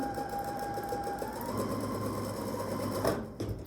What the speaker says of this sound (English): All right, so I'm just gonna sew to the end.